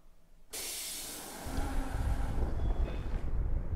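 In a video game, a sudden loud pneumatic hiss of train doors closing, followed by a low rumbling of rail movement that continues to the end.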